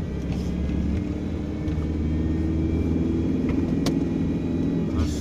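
A car pulls away on a snowy road, its steady low engine rumble close and continuous, with a faint rise as it gets moving and a few light clicks over the drone.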